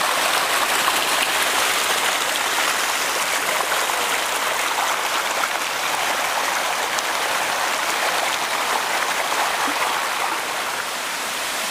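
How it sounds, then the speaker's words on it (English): Creek water rushing through backyard woods after intense rain, fed by an overflowing pond: a steady, dense broadband roar of flowing water, continuous and fairly loud throughout with no talk. "That's what's causing the river to run through the woods."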